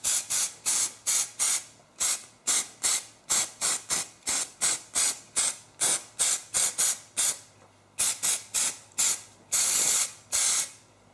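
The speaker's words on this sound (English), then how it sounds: "So I'll first spray on a first coat and then just brush it around" Rapid bursts of aerosol spray hiss in a quick, uneven rhythm as a coat is sprayed onto a silicone mold, close and loud, with a few longer sprays near the end and no talking.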